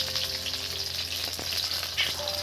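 Eggplant slices fry in hot oil in a kadai, giving a close, steady crackling sizzle with faint clicks of utensils and a low background hum.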